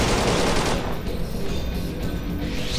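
Rapid bursts of video game gunfire in a steelworks refinery level, loud and continuous with dense overlapping shots throughout.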